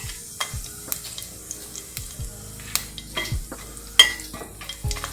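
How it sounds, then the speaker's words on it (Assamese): Cumin seeds and two dried chillies hit hot oil in a pan, giving a soft sizzle under scattered stirring scrapes and light clinks of a utensil against the pan. "এতিয়া তেলখিনি গৰম হোৱাৰ পিছত কেইটামান জিৰা দিলোঁ আৰু 2টা শুকান জলকীয়া।"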